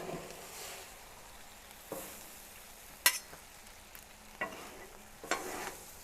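Mushrooms go onto a hot griddle and sizzle gently under bourbon chicken and steaks, with soft frying hiss broken by occasional sharp scrapes and taps of a spatula.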